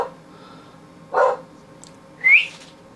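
Outside, a dog gives a single mid-distance bark, followed a moment later by a sharper, higher yip or whine, with quiet room tone between.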